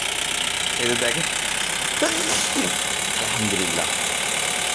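A Mahindra Big Bolero pickup with a line-pump diesel engine runs steadily nearby, its throttle held open for a sustained rumble under someone talking.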